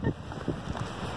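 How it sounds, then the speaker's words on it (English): Strong wind on Pilot Mountain, North Carolina buffets the microphone with a steady, roaring rush and low gusty thumps throughout. "It is crazy windy out here today."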